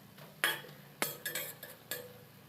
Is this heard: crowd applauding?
no